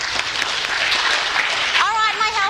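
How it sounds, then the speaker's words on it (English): An audience claps for child helpers at a space-themed festival event, a dense, steady round of applause with a voice speaking over it near the end. "Can everyone give my helpers a round of applause?"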